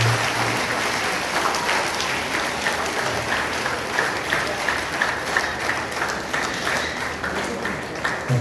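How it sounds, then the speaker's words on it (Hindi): A church congregation at a Holy Mass confirmation in Singpur parish, Ranchi, applauding loudly, a sustained dense clapping of many hands that carries on evenly throughout. "तो सबके जोरदार ताली बजा देंगे।"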